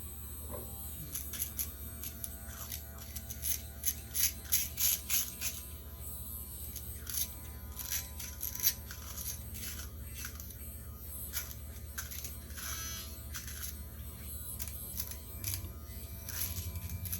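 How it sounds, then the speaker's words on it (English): An Evo micro travel electric shaver buzzes steadily through a beard, a constant low hum broken by repeated crackling bursts as the cutters catch stubble, close and sustained throughout with no talking. "when you're using an electric razor"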